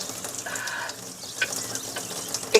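Water runs from a tap in a temporary kitchen sink as the supply empties and pressure drops, a thin, uneven splashing stream with a few sharp clinks and no talk.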